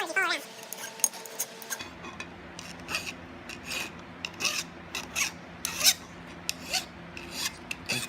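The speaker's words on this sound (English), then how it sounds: "you just want to give it a nice, even file, just to kind of knock those sharp edges down" A hand file rasps repeatedly across the sharp steel edges of a small hammer keyring, giving quick irregular strokes with metallic scraping, close and moderately loud, with faint workshop clinks.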